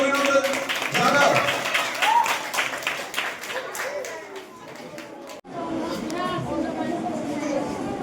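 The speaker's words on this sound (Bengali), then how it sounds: "সবাই জোরে হাততালি দিয়ে অভিনন্দন জানাও।" Students at a Bengali high school prize-giving ceremony clap loudly in sustained applause, with crowd chatter and talk mixed in, then a brief pause and a softer continuing round.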